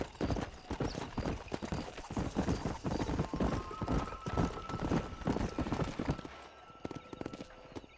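Horse hooves gallop in a fast, steady clip-clop rhythm while riding in the Red Dead Redemption video game, with an occasional whinny and ambient game sounds layered underneath, fairly loud and close throughout.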